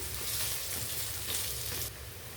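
Radish pieces sauté in oil in a pan for a Tamil radish curry (mullangi kulambu), giving a steady close sizzle and crackle with soft stirring swells, quietening slightly near the end.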